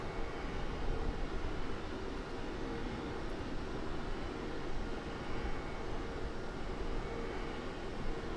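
A jet airliner's engine drones at cruise altitude in Microsoft Flight Simulator on a flight from Puerto Vallarta to San Jose del Cabo. The roar is steady and even throughout, with no talking.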